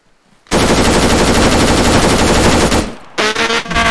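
Rapid automatic 9mm gunfire in the Arma 3 video game, a loud continuous burst lasting over two seconds, then a short pause and a second, briefer volley.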